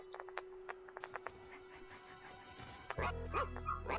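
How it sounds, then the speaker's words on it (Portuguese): A small robot in the ReCore video game barking like a dog: a string of short, sharp, high yips spaced unevenly, followed by a louder burst of mechanical whirring and rumbling sounds. "Esse robozinho latindo que nem um cachorro aqui"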